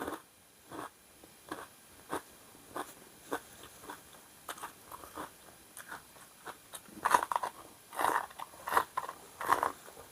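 Crunchy bites and chewing of crispy pork and spicy Thai pork salad, a steady run of close, crisp crunches that grows denser and louder toward the end, with no talking.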